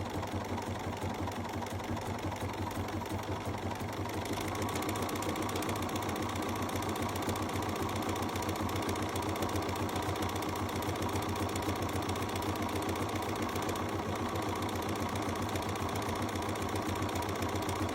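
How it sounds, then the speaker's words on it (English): A BERNINA sewing machine fitted with the #6 embroidery foot stitches a scallop pattern along a fabric edge, giving a steady, continuous mechanical whir with a rapid, even needle rhythm that runs up close throughout. "And it's just going to keep stitching away."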